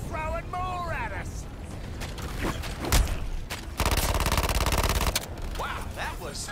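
Gunfire in the video game Suicide Squad: Kill the Justice League rises into a dense, rapid automatic volley midway, amid game explosions and effects, while characters talk over it.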